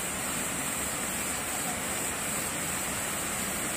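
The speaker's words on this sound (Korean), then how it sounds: "물줄기가 떨어지고 있습니다" Bidulginang waterfall on the Hantan River in Pocheon pours heavily after a day of rain, making a steady, dense roar of rushing water that fills the whole clip without a break.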